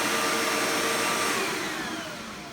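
A 2005 Eureka Maxima upright vacuum cleaner runs in a suction test, a loud, close, broadband roar that fades slightly as it goes.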